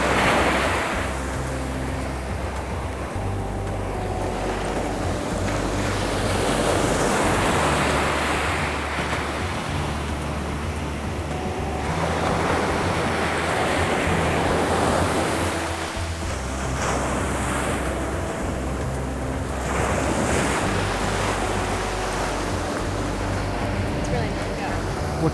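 Steady wind roars against the microphone while ocean surf rolls in and breaks at the beach, a continuous loud wash with swelling waves throughout.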